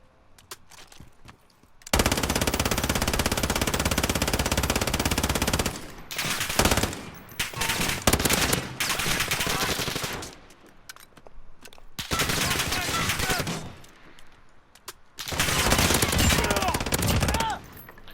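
A SAW light machine gun firing in Call of Duty Modern Warfare, loud sustained automatic bursts of several seconds each separated by short pauses, with faint game radio chatter between bursts.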